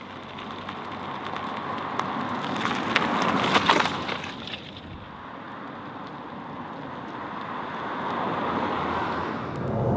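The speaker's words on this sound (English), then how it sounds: "So here we are driving the Smart fortwo electric." Smart fortwo electric car cruising on a highway, mostly a broad wash of road and wind noise with a louder whooshing swell early on, as if something passes close by, then steady cabin rumble and no talk.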